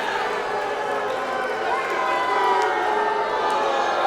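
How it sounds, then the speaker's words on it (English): Live wrestling crowd at the Belasco Theater jeering and booing, a loud, dense wash of voices and shouts filling the hall continuously from start to finish. "the jeers, the boos, the lack of adulation from this live crowd here at the Belasco Theater"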